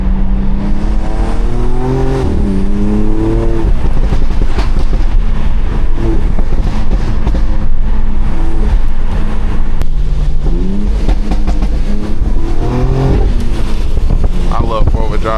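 A 700-horsepower BMW X3 M slides on a wet road in the rain, its engine loud and close as it revs, rising and falling through gears, with tire and road noise and talk inside the car.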